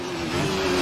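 Alfa Romeo 155 TI V6 race car in Assetto Corsa, its high-revving engine holding a loud, steady, buzzing tone that climbs slightly over a brief moment, heard alone.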